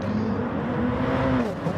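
Race car engines whine in Gran Turismo Sport, a steady high drone that climbs and dips as the cars race close together, loud and continuous.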